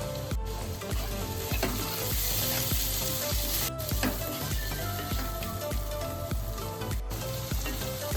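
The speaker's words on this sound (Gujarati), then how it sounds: "આપણે એકદમ સરસ બધું સતરાઈ ગયું છે" Chopped tomato and green onion sauté in a hot pan for Kathiyawadi-style tempered rotlo, giving a steady, close sizzle with rhythmic stirring clinks and scrapes throughout.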